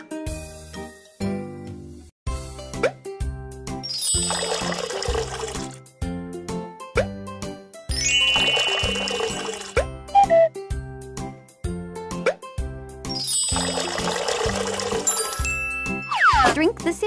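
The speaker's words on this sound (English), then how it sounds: "Let's mix up some syrup." Syrup being mixed in a baby doctor video game comes through as bursts of bubbly, watery chimes and sparkly effects layered over a bouncy, rhythmic game music loop.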